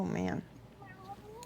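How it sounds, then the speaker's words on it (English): A large cat lets out one loud, clear meow up close at the start, then only faint quiet background sounds remain. "There's a giant cat here."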